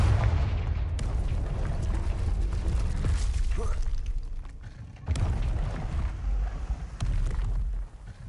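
Booming spell blasts from the Confringo spell in Hogwarts Legacy, several sharp explosive bursts with rumbling low tails spaced a couple of seconds apart over a continuous game background.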